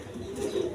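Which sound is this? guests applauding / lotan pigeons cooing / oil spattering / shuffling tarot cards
lotan pigeons cooing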